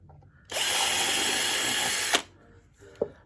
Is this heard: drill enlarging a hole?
yes